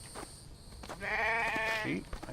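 A sheep in the survival video game The Infected gives one drawn-out, wavering bleat after a short pause of ambient sound, fairly close and clear.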